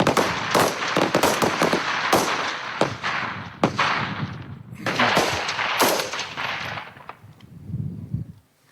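Rifle fire from 5.56 NATO rounds at an outdoor Canadian Forces firing range, targets roughly 200 m away: a rapid string of sharp, loud cracks in uneven bursts, a short lull, then more shots trailing off.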